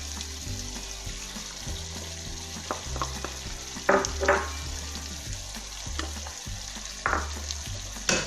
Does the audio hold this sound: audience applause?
no